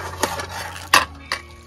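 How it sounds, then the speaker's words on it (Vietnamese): A spoon stirs brown sugar boba fresh milk in a cup, with a few soft clinks against the side spread over a couple of seconds, quiet and close. "bây giờ khuấy lên thì nó mới đẹp này"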